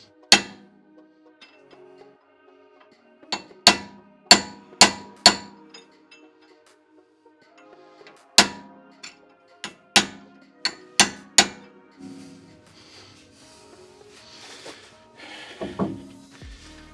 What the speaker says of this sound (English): now we're going to crimp the nut so it won't loosen.